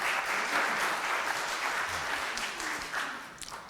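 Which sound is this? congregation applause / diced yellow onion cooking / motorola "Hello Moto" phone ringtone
congregation applause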